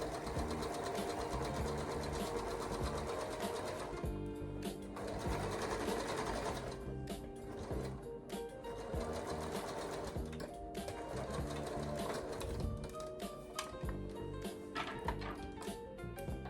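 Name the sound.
sewing machine stitching dress fabric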